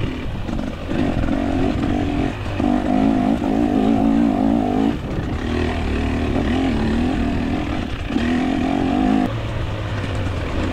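Two-stroke dirt bike engines racing at a hare scramble at Oak Ridge, including a 2024 KTM 300; loud continuous buzzing engine note with repeated revving bursts and shifts, close by, no talk.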